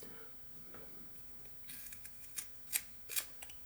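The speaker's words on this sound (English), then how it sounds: "I'm just going to put a little cut in the side over there, and just kind of cut into it like that." A knife cuts into wood while whittling a mountain lion figure: close, quiet scraping and nicking strokes, a few short cuts clustered in the second half after a near-silent start.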